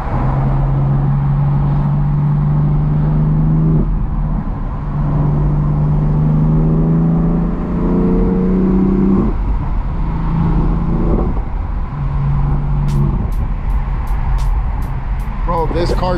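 A BMW M3 with a manual gearbox drives a canyon road, its engine note climbing and dropping through gear changes under steady road and wind noise, loud and close throughout.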